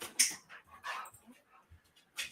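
Near the microphone, a dog whimpers and yips softly in short bursts, with scuffling and rustling as it moves about indoors.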